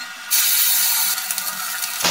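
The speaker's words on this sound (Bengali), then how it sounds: "মাছগুলো এবার ভেজে নিচ্ছি।" Small mourola fish dropped into hot oil in a pan, bursting into a loud, sharp sizzle after a quiet moment and crackling on steadily, with no voices.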